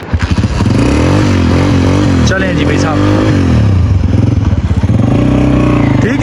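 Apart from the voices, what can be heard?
motorcycle starting and riding off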